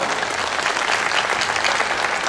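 Sustained applause from an audience at a Hindi poetry recital, dense and steady throughout, with no talking over it.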